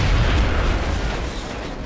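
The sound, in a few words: grenade explosion in the video game X-Com: Enemy Within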